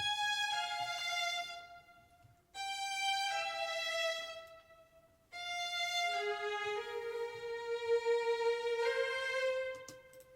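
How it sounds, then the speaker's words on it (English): The first violin part of a string arrangement plays sustained, bright bowed notes in a simple repeating melody, with two short breaks. A lower line joins later. The sound is clear, with no speech over it. "I'm going to start with the first violin."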